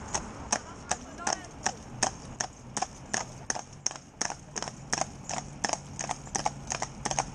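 Hooves of a commercial pair of Friesian horses clip-clop on a road in a steady, even rhythm, close and distinct over quiet background noise.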